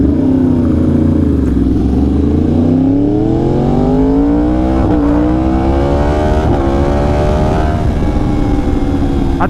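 A 2020 Yamaha R1 on a street ride at sunset revs loud and close, its engine note climbing and falling through repeated accelerations and gear changes.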